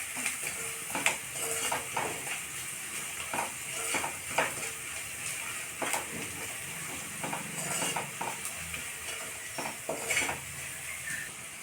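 A spoon stirs coriander and cumin powder into rajma curry in a pan, with repeated scraping strokes and soft clinks against the metal over a low sizzle, no voices.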